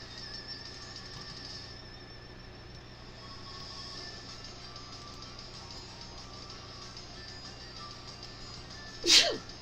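A single sharp human sneeze bursts out near the end, loud and close, over a steady low indoor hum with a faint sustained tone running underneath.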